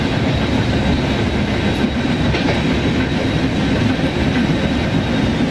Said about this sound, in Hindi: हमारे बगल वाले ट्रैक के ऊपर कोई ट्रेन आती हुई